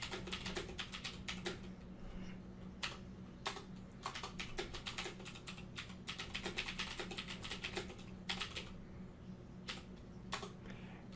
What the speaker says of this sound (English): And now you can start typing.